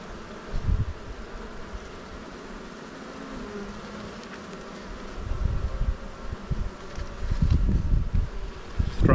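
Honey bees buzz steadily around a hive frame during a hive inspection, a dense continuous drone heard close, with some handling bumps and rustles that grow louder toward the end.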